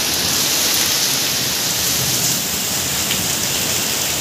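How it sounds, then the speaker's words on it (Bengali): Heavy rain pours outside during a storm on a festival day, a dense, steady hiss of downpour that runs unbroken and loud throughout, with no voices. "আজকে সষ্টি আর কি বৃষ্টি পড়ছে দেখো, বাইরে পুরো ঝড়ের আওয়াজ শোনো।"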